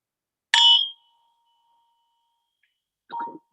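A single bright bell strike rings out in a meditation session, its tone decaying into a thin lingering hum, followed a few seconds later by a softer, duller clink.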